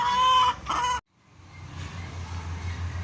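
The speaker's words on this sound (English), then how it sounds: "Is this a Rhode Island Red?" A Rhode Island Red chicken at a fairground 4-H barn clucks loudly and close for about a second, then falls quiet before a low murmur of ambient noise rises.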